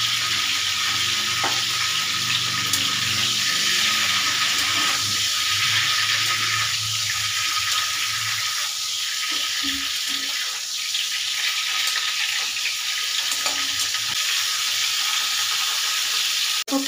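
Lightly salted cauliflower florets fry in hot oil in a pan, giving a steady, close crackling sizzle that runs unbroken throughout with no talking.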